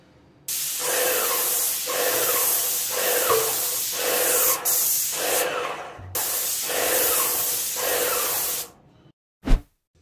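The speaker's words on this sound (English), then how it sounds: "Okay, let's spray." A paint sprayer hisses in a series of steady bursts of primer onto kitchen cabinets, about six in a row, loud and close, with a brief clunk at the end.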